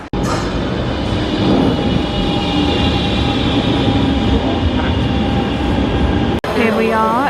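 A Barcelona metro train on line L3 rumbles steadily and loudly inside the tunnel, with a constant roar and rail noise for several seconds, then a sharp break followed by brief squealing tones.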